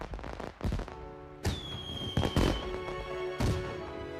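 Fireworks burst in a few separate sharp cracks and booms, each followed by a ringing tail, with some clattering between them and no speech.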